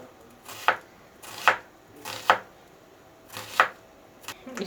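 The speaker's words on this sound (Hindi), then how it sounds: "फ़िलहाल तो मैं अभी प्याज काटना शुरू कर रही हूँ" Two large onions cut into thick pieces with a knife on a board, five crisp, evenly spaced chops about a second apart, close and distinct against a quiet kitchen background.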